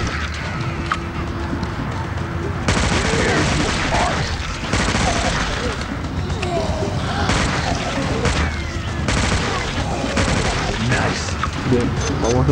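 Dense, loud bursts of gunfire and booms from the shooter game Dead Trigger 2 fill the scene, with rapid repeated shots and heavy impacts continuing throughout as a player talks over them.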